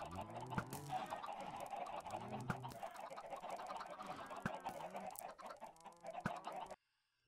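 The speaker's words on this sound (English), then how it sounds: "that's a lot of chickens just running around" Many chickens clucking and bawking in a Minecraft farm, overlapping repeated calls at close range that stop abruptly near the end.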